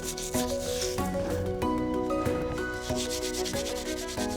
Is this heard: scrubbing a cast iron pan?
yes